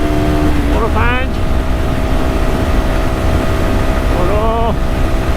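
A Galaxy NH250 motorcycle engine pulls steadily in fifth gear, its drone sitting under heavy wind rush, with two brief rising whines that sound like short revs.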